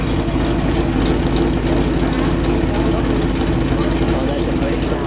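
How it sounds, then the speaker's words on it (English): The engine of a 1958 DeSoto Firedome convertible idles close by with a steady, low, throbbing rumble, while someone talks over it. "That's a great sound at idle."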